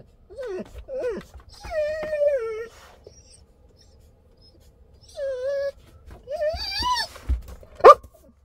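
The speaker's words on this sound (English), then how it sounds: "Two little dogs here with a woman" Small dogs whimpering and whining in high, wavering cries near a van, several separate bursts with quiet gaps between, ending in a sharp yelp.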